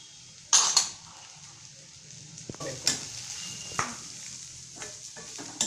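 Byadgi red chilies dry-roast in a pan while being stirred. A low, faint sizzle runs underneath, broken by several sharp scraping and clinking strokes of a utensil against the pan at irregular intervals.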